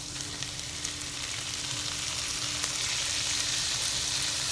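Tomato sizzles and fries in a hot pan, a steady crackling hiss close up that holds evenly throughout with faint stirring, no voices.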